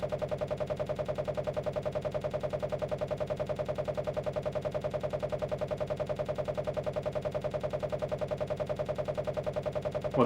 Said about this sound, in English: Well, that's the sound of a crash.